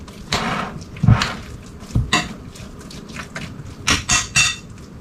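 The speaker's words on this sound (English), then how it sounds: "And then we can just kind of stir that in" A potato skin filling mixture gets stirred in a bowl, with a handful of close, separate scrapes and clinks of a utensil against the dish and soft wet squishes between them.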